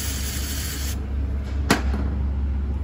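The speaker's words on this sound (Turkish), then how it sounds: "Ondan sonra elinize bir balata spreyi alın." Brake cleaner is sprayed into a Fiat throttle body in a continuous, close hiss that stops after about a second. A short, sharp burst of spray follows, over a low background hum.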